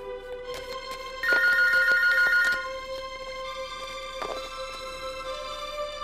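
A telephone rings on a call-in line during a fortune-telling broadcast, with bright metallic bell trills that are loudest in a middle burst, then a faint sustained tone and a short ring near the end.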